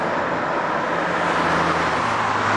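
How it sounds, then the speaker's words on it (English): A 2-litre diesel Citroën Berlingo-style Partner tow car cruising on the road, giving a loud, steady broadband roar of tyre and traffic noise with a low engine hum underneath. "Our new tow car is a 2-litre diesel partner"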